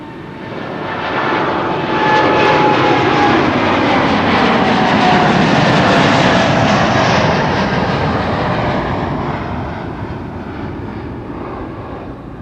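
TUI jet airliner at Amsterdam Schiphol Airport, a powerful engine roar that swells to a loud sustained peak and slowly fades as the plane passes, with no talking.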